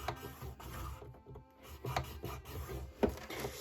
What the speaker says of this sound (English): we are going to score at 1/2 inch and at 6 inches